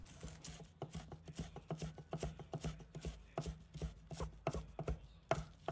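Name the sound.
knife cutting scallion leaves into shreds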